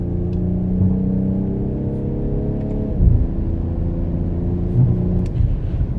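A BMW X3 M40i engine accelerates hard on a snowy road, its steady rising drone dipping briefly at a gear change midway before climbing again, heard from inside the cabin without talk.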